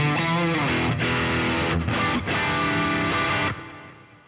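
Electric guitar played through a modded amp model on a BOSS GT-1000 rings out in sustained, slightly softened overdriven chords with a few brief breaks, then fades out at the end.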